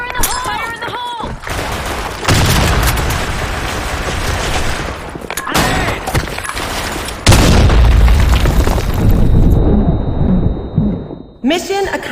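Counter-Strike grenade blasts on the Sand Storm map: several loud, booming explosions with broad rumbling tails, broken by short gaps, with game voice callouts heard between them.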